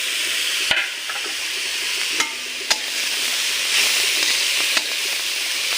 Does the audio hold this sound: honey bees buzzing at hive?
no